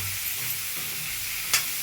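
Boiled chickpeas are stirred in a pan over a low, even sizzle, with soft scraping movements and one brief sharper scrape near the end.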